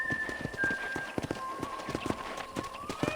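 Horse hooves clip-clop in a steady walking rhythm across the Red Dead Redemption ranch, close and fairly loud, with a faint sustained tone in the background.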